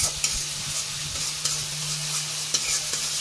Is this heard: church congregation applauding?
no